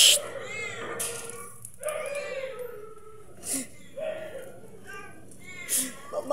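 Impounded cats meow and whimper in a plaintive series of cries, with brief pauses between calls and faint background noise.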